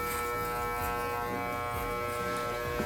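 Electric hair clippers run in a steady, even buzz throughout a home haircut, held close and loud without any break or speech.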